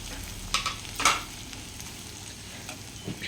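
Onion curry fries in a pan as coriander and chili powder are stirred in, with a few distinct spoon scrapes over a soft, steady sizzle and no talk.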